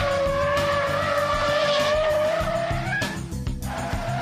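Tyres squeal and skid loudly as a high-performance car burns rubber on track, a sustained close screech over a roaring engine that shifts pitch near the end.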